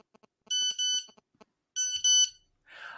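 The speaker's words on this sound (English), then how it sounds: "If I keep texting, does it keep beeping?" Nokia 3310 phone sounding text message alerts, short bursts of shrill electronic beeps in a quick pattern, pausing, then repeating, with a brief rustle at the end.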